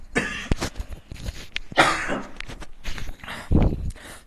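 Several harsh coughs and throat-clearing sounds up close, in uneven bursts with brief pauses, ending in a heavier low cough.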